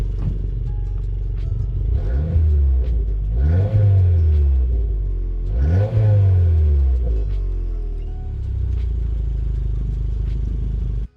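A 2022 Subaru WRX engine revs close by in three sharp swells that climb and fall back, with a deep rumbling idle between them and a steadier drone toward the end.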